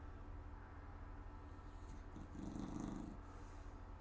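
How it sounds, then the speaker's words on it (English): A dog snores and grunts softly nearby, a low rumbling breath repeating steadily and swelling slightly louder toward the middle, with no talking. "you may be able to hear my dog grunting and snoring like she does"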